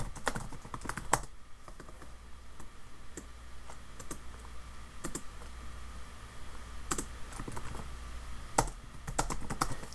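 Rapid, uneven taps on calculator keys as numbers are entered in bursts, close and moderately loud, with brief pauses between runs of presses and no talking over them.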